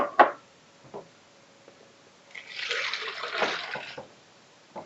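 Water poured into a pot of Chinese soup, a short splashing pour in the middle after a few knocks and clinks of utensils, fairly close, with no talk.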